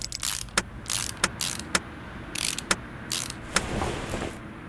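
Clicks, clunks and short whooshes as a clutch pressure plate, flywheel and clutch are mounted on an I6 engine in Car Mechanic Simulator 2018, several sharp part-fitting snaps at an uneven pace over a steady low hum, with no talk.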